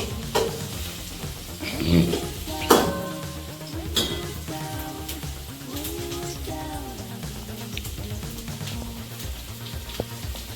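Onion frying in a pan on low heat, a close continuous sizzle with intermittent stirring scrapes and light clinks of utensil against the pan.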